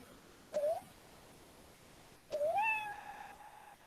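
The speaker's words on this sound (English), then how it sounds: "this one is owl sound and the meow sound, both is there" Two synthetic animal sound effects play in turn, a short rising owl hoot tone then a longer wavering cat meow, over quiet background hiss.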